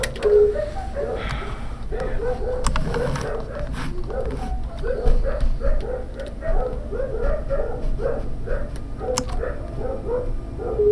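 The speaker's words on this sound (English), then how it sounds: "dogs again. doggies." Several dogs bark repeatedly at a live-streamed venue, producing a string of short, regular yaps and bow-wows at moderate distance, joined by a few whimpers and yips over a constant low background hum.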